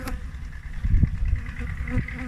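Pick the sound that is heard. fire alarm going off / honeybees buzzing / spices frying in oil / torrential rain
honeybees buzzing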